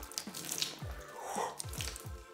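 Water poured over a Tivoli Songbook wireless speaker, soft splashing and trickling with a few distinct drips and splats, faint and close.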